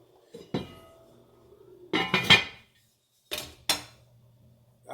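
A pot of black beans, Caribbean style, clanks as a metal lid is set on and adjusted, giving a few sharp close clinks and scrapes spaced over several seconds with quiet gaps between.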